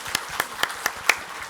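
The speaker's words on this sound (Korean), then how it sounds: "우리 박수로서 축하해 주시기 바랍니다" A church congregation celebrates an infant baptism with a few sparse, separate claps, roughly five sharp hand claps spread unevenly across a quiet moment.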